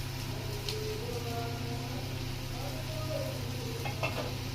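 Chopped tomato stirred into spices frying in oil, a steady sizzle with occasional soft scrapes of a spoon, close and constant with no talking.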